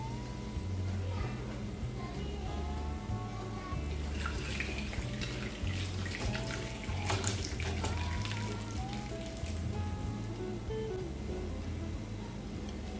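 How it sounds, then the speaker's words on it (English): Water from groundnuts cooked for 30 minutes is strained off in a kitchen, with a steady pouring and splashing sound running unbroken throughout, close and moderately loud, with no talking. "I'm going ahead to strain the water."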